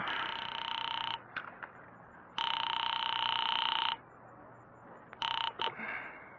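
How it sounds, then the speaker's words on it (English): A telephone rings in long electronic bursts separated by pauses, loud and clear, with a few short clicks between rings. "Sam, boy, I am actually ringing North Takaloma 3"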